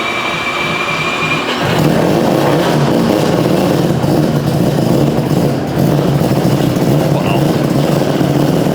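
A four-rotor Mazda RX-7 engine rumbles and revs steadily while warming up, loud and close, with a brief dip partway through; a voice can be heard faintly under the engine noise.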